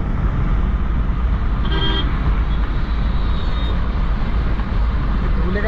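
A groom's car driving fast through road traffic during a wedding procession, with a steady engine and road rumble from inside, a brief horn toot near two seconds, and people talking.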